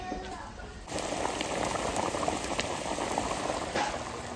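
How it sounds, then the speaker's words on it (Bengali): Fish curry broth bubbling at a rolling boil in a pot, a steady dense simmering hiss that swells louder after the first second and holds close and continuous throughout. "মাছের ঝোলের জাল উঠে গেছে"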